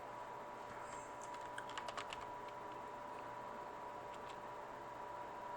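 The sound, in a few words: typing a name on a keyboard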